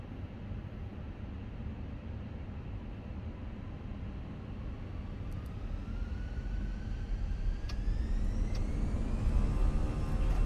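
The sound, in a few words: Fenix A320 airliner engines at takeoff thrust, MSFS 2024 video game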